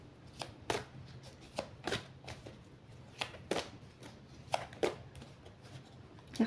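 Tarot-style cards shuffled and drawn by hand, a steady run of crisp riffling slaps and soft card flicks, close and fairly quiet, with no voice over them.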